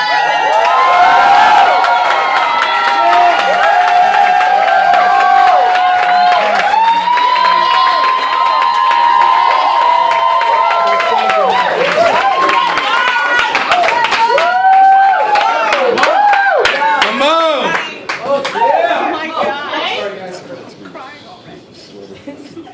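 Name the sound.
audience applause and cheering at a poetry slam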